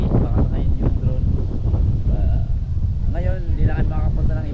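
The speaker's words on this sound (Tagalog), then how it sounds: "lakas ng hangin" Strong wind buffets the microphone with loud, continuous rumbling gusts while people talk underneath, on Daku Island, Siargao.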